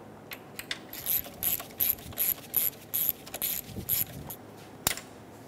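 A ratchet works a bolt loose under a rubber boot, about eight quick bursts of sharp clicking spaced roughly evenly, close and fairly loud, ending with a single metallic clack.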